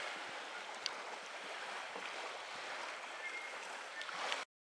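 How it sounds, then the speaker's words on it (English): Choppy water on Lake Crescent laps and splashes around a kayak on a windy day, a steady broadband wash of small waves with wind noise, close and continuous with no voices. "It's a little choppy today out here on the lake."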